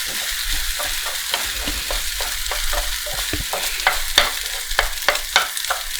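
An omelette fries in a pan while being stirred and scraped, a steady soft sizzle under repeated scratchy utensil strokes against the pan, with no talk.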